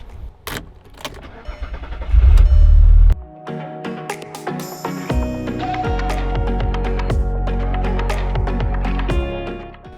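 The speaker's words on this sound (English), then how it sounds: "I need to actually start the car and then full lock to the left, full lock to the right, so that it sucks it all in." A car's engine starts after some clicks and rattles, with a heavy low rumble, then idles steadily with a faint whine while the steering is turned from full left lock to full right lock to draw in fluid.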